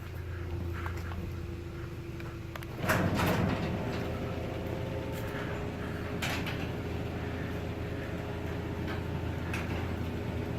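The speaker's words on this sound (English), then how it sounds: "you can open the door and operate it manually" A residential garage door is pushed open by hand after its emergency release lever is pulled, a sudden rattle and clunk followed by a long steady rolling rumble along the tracks with occasional ticking clicks, close and loud.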